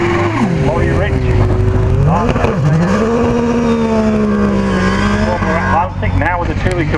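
Hill climb race car with a 2 litre Vauxhall engine mounted in the back, loud and close, revving hard with rising and falling pitch through gear changes and a brief tyre squeal.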